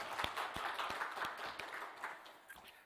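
A church congregation at a Sunday service claps together, a soft, fairly distant patter of hands with a few sharper individual claps standing out, fading slightly as it goes on.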